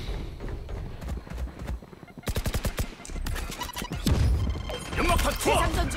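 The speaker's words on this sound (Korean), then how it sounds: "사격 시작이다!" Rapid bursts of video game gunfire in Spike Rush, a quick rattling volley in the middle followed by denser mixed game noise and shots, with a voice briefly talking over it.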